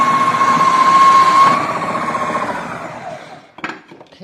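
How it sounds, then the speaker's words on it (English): A Magimix Cook Expert food processor grates carrots with a loud, steady motor whir for about three seconds. The whir then winds down into a few short knocks and rattles near the end. "grate them, keep grating. If I've done them small enough, they will fit long ways."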